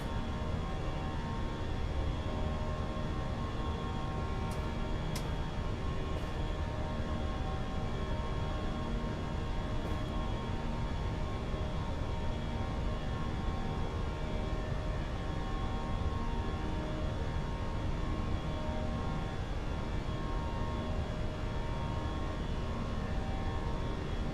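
Steady, loud aircraft engine drone fills a small plane's cabin as it climbs toward cruise on a Sydney to Melbourne flight, a dense continuous roar with constant tonal hum and no talk over it.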